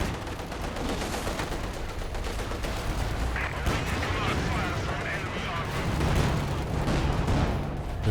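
IL-2 attack planes strafing in the real-time strategy game Company of Heroes 2, with dense, continuous gunfire and booming impacts filling the whole stretch at steady loudness while a voice talks over it.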